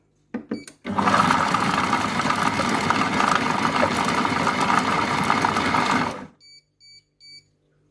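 A Compact Cook Pro food processor runs at speed 4, with a few beeps and clicks and then a loud, steady motor whir lasting about five seconds before it stops and beeps again.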